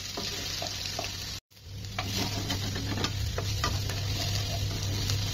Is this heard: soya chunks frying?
yes